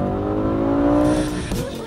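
A V10-engined high-performance family car with a 7-speed SMG gearbox accelerates hard, its loud, close engine note climbing and then dropping with a gear change partway through.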